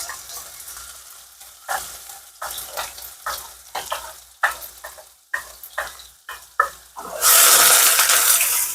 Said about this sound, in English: I think it's already hot, so I'm gonna put the onion there.